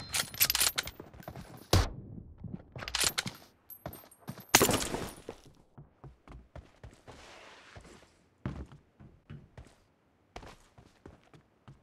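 Rapid gunfire in a team room-match video game, with sharp cracks and short bursts of shots coming in clusters, followed by lighter scattered clicks and thuds.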